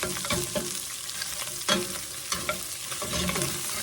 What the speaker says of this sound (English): let it kind of fry around in there for a minute